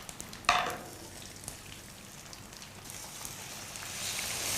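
A cabbage and carrot payesh mixture with cardamom powder sizzles faintly in a pan, with a soft clatter near the start and the hiss swelling toward the end.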